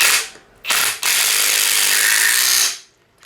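Ratchet spinning down the top nut over the rubber top hat on a 2022 Toyota GR86 strut with lowering springs, a close, loud continuous buzzing run of about two seconds after a brief opening burst.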